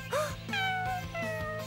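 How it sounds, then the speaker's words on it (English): A cat meows three times in close succession, each call a clear, rising and falling tonal cry, fairly near, with a low steady hum underneath and no talking. "I hear a kitty."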